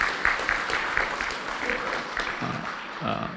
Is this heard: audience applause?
yes